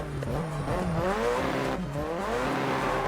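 A car engine roars and shifts pitch up and down, with tire squeal as it slides through turns in the drifting video game JDM Japanese Drift Master, loud and steady throughout.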